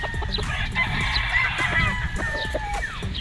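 A local banded gamecock with a straight comb crows close by, a loud drawn-out call over other clucking and fowl noise in a busy poultry setting.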